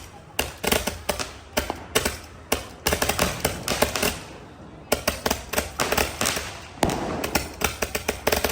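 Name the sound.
Diwali firecrackers bursting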